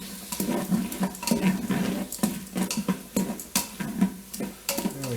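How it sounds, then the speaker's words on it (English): A spoon scraping and clinking in a pan of Italian beef stew with celery, wet irregular stirring strokes close up over a steady sizzle, with no talking. "I'm just going to give this a nice little stir."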